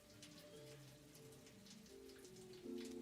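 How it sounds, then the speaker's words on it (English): Steady rain patters in a factory-building video game, a soft continuous hiss beneath sustained tonal background music, with no talk. "Oh, rain."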